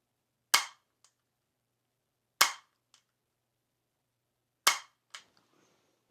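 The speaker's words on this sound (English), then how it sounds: "Okay, I took 3 shots." Three sharp, isolated pistol shots fired during a Mantis X benchmark training drill, evenly spaced about two seconds apart, each followed by a faint short echo, with silence in between.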